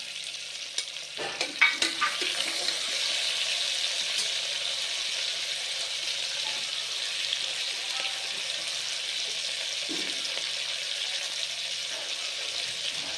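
Three medium chopped tomatoes sautéing in a pan for a rice and lentil dish: a few sharp clatters as they drop in, then a broad, even sizzling hiss that holds steady and close throughout, with no speech.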